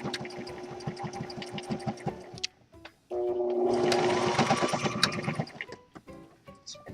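A sewing machine stitches through fleece on a DIY owl toy, running in quick rhythmic bursts, pausing briefly, then whirring steadily for a longer continuous run, close and fairly loud.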